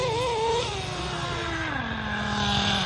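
Nitro-powered four-wheel-drive RC car engine revving hard with a high, buzzing whine that rises and falls in pitch, loud and close in an outdoor setting during a dirt bike break.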